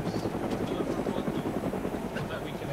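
A helicopter in a video game drones steadily with a thick rotor thump and engine roar, loud and continuous throughout.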